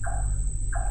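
Two brief whistled bird calls, each a quick two-tone note, over a steady electronic hum and low rumble.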